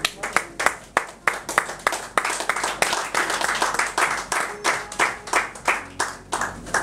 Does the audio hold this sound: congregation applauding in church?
yes